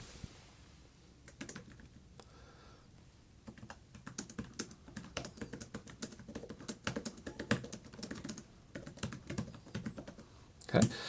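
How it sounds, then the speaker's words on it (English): Typing on a reMarkable e-ink tablet's keyboard folio: a steady run of soft, close key clicks and taps with irregular rhythm, growing a little busier partway through, ending with a sharper clack. "let's go ahead and just jump right in then and see what it's like to type on this device"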